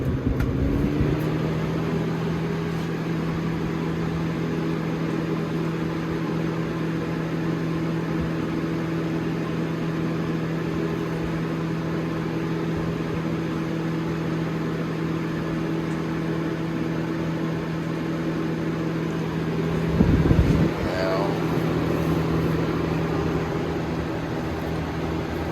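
Lasko Ultra Force box fan from 1997/2000 running on its high setting: a steady, loud motor hum and airy whoosh that holds unchanged throughout, with a brief knock or bump near the end.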